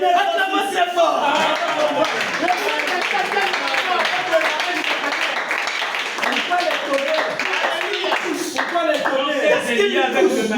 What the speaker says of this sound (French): Acclamez très fort